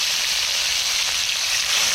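Steady, dense hiss of snakehead fish frying in hot oil, continuous and close, with no voices over it.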